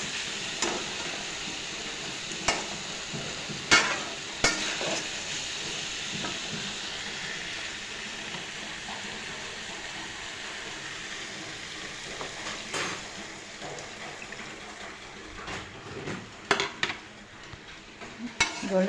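A paneer and potato curry is stirred in a frying pan as water goes in. There is a soft continuous sizzle, with scattered utensil scrapes and clinks against the pan, fairly quiet and close, and nobody talks.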